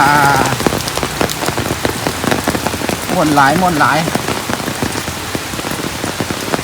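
Heavy rain pours steadily with strong wind, drumming loudly on a surface, while a voice briefly speaks over the downpour.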